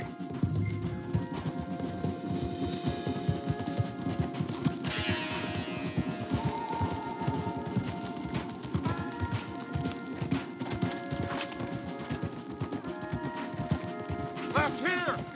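Horses galloping in a Western video game, a dense rapid clatter of hooves running steadily throughout with other riders nearby, under faint talk and background game sounds.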